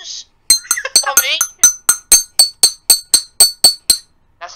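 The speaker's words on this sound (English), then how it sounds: "This is some old bell I have in my closet randomly." An old small bell is struck in a steady rapid series of about a dozen bright metallic rings, close and loud. Brief speech-like sounds come at the start and end.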